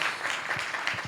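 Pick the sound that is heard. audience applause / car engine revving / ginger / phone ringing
audience applause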